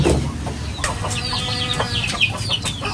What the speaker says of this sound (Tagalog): Ito po yung mga sisiw ni Bossing.